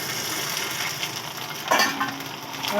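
Steady hiss and crackle of sago crisps frying in hot oil, continuous sizzling with a brief louder burst partway through.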